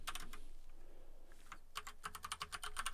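Typing on a computer keyboard, a few scattered keystrokes early on, then a quicker, steadier run of clicks near the microphone toward the end, with no voice.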